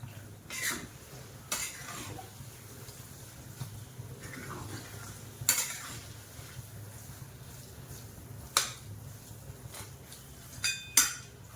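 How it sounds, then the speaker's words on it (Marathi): Cardamom is stirred into a thick banana sheera in a pan, with a few sharp spoon scrapes and knocks spaced out over a low steady background hum. "वेलची आपण मिक्स करून घेऊया"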